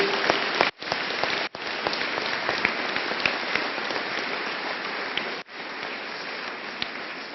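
Audience applause after a riding troubleshooting demonstration, a dense steady wash of clapping that runs continuously with a couple of brief dips, fairly close and loud throughout.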